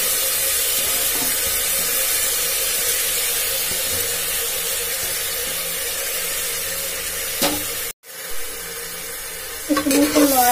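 Jeera rice sizzles and hisses in a pot as it is stirred, a steady loud frying sound close up, broken by a brief silence and a few scraping clatters near the end.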